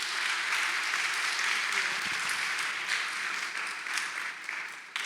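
An audience at a palliative care symposium applauds, a dense, even wash of clapping that carries steadily for several seconds before tapering slightly at the end.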